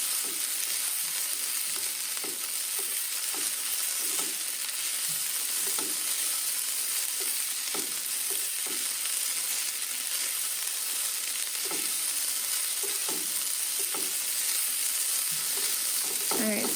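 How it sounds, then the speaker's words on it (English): Kimchi fried rice sizzles steadily over high heat, a loud continuous frying hiss broken by frequent scraping and clacking as it is stirred without pause, with no talking. "You're going to want to continuously stir this because it's a relatively high heat, and it'll start to burn pretty easily on you."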